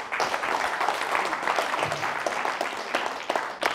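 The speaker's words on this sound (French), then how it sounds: "vous pouvez applaudir encore" Audience applause fills a live business conference hall, a dense, steady wash of many hands clapping at fairly close range that holds for the whole stretch with no talk over it.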